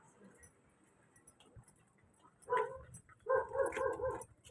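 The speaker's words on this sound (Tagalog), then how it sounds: "Ay, may aso." A dog barks a few times at moderate distance in a Filipino household yard, short bursts coming in the second half over faint background noise.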